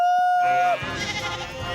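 Cartoon young sheep on a farm give a wavering bleat after a held steam-train whistle tone, followed by a short burst of noisy commotion.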